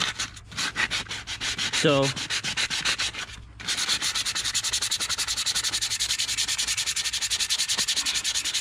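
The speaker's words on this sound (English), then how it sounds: "the more you sand it, the better you can see it." Abrasive sanding on a Peterbilt 359 truck wheel rim, a loud close scraping rhythm of quick repeated strokes that runs almost continuously, pausing briefly before resuming at a steady even pace; a voice speaks a single word.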